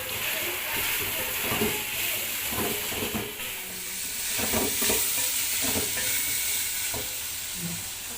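Cubed capsicum and onion stir-frying in a pan for chicken Manchurian, making a loud, continuous sizzle and hiss with repeated scraping strokes of a spatula, with no talking over it.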